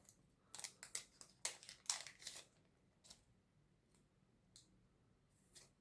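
Scissors snipping open a One Piece trading card booster pack, a quick cluster of sharp crinkly cuts and foil rustles, then a few softer isolated clicks and handling sounds, close and quiet.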